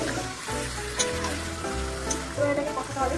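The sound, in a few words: chicken added to frying spices for biryani, sizzling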